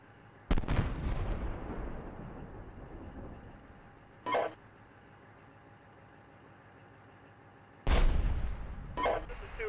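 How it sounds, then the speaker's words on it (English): Three heavy booming shots from Steel Beasts Pro tank combat rip out at wide intervals, each a loud sharp blast with a short rumbling decay, over a quiet idling engine hum. "We're taking fire here."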